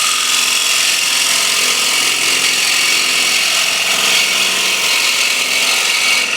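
Wood lathe spinning a large platter while a bowl gouge cuts, a loud, steady, bright scraping whir that holds evenly throughout with no voices.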